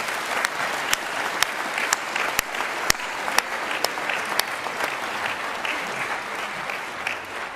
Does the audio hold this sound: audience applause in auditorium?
yes